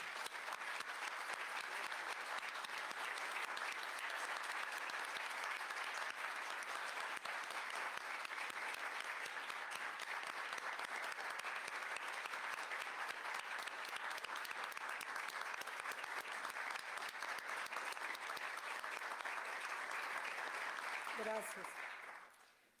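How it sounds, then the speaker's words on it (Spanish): Audience at a law faculty event applauding Mariana, long sustained dense clapping that stays even for about twenty seconds before stopping abruptly, with a brief voice at the very end. "les pido un fuerte aplauso para Mariana"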